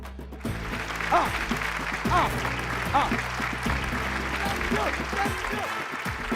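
Studio audience applause on a Malayalam TV game show, steady clapping that runs throughout at moderate volume, with a host's voice and other voices speaking over it.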